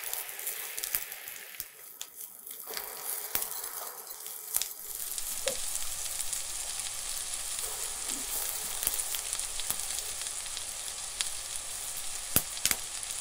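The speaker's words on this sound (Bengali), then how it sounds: "সবটাই একসঙ্গে ফ্রাই" Garlic and green chillies fry together in a pan, starting quiet and then breaking into a steady close sizzle with scattered pops and crackles as the pan is stirred.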